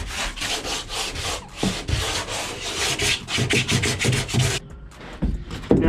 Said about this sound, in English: So just want to make sure that that's sanded properly.